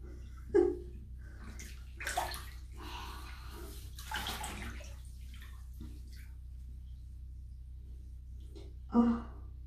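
Warm bathwater sloshes and splashes in a filled bathtub as someone shifts in it, with a few sporadic louder splashes separated by quiet, dripping pauses over a low steady hum.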